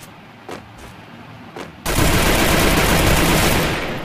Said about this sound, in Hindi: पीछे फायरिंग की आवाज़ है गाइस